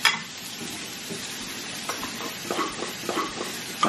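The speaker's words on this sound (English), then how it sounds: "So it's ending up being kind of scrambled eggs." Scrambled eggs fry in a pan with a soft, steady sizzle while a utensil stirs and scrapes them in quick, close bursts toward the end.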